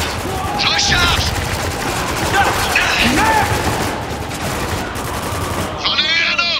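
Rapid bursts of gunfire and explosions from the war shooter game Spec Ops: The Line, loud and continuous with dense battle noise throughout, with shouted voices mixed into the fighting.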